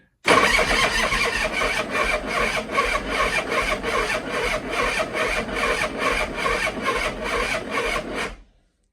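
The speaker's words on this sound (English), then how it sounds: "Start engine. Here we go, folks. Engine on in neutral." A car engine cranks repeatedly with a rhythmic, even churning for about eight seconds without catching, then cuts off abruptly.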